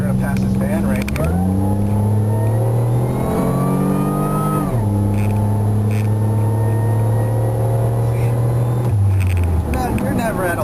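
A Buick Regal GS engine climbs in pitch through gear changes while accelerating to pass a van on the road, then settles to a steady drone before easing off. Someone talks over it from inside the car.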